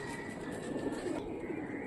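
Faint, low cooing of white golden Pakistani high-flyer pigeons murmurs in the background, soft and steady with a slight hum behind it.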